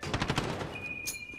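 Rapid automatic gunfire from a first-person shooter video game, a short tight burst of shots up front, then a fading tail and a high electronic tone, with no speech.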